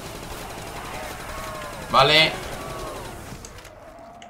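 Brief burst of gunfire in a Call of Duty: World at War zombies custom map, a short loud volley near the middle, with a player talking around it.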